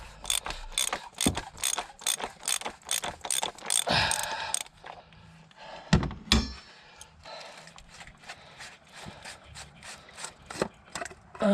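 A socket ratchet clicks rapidly and rhythmically as it undoes the 32mm oil filter housing on a 2009 Vauxhall Corsa D. Metallic knocks follow, then slower, irregular ratcheting, all close and fairly loud.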